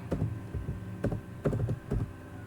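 Keys clatter on a computer keyboard in short, uneven bursts of three or four presses, close and moderately loud against a quiet room, with no talking.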